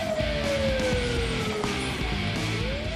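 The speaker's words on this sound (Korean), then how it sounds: "동시에 사이렌이 울려 퍼집니다." A warning siren wails at a military explosive ordnance disposal site before the detonation of thousands of unexploded and abandoned munitions, a loud sustained rising and falling tone with a steady rumble beneath it.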